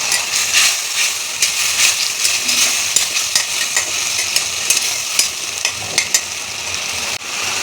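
Tomato and ginger paste frying in a pan for bhindi masala, a loud continuous sizzle broken by scraping clicks of stirring.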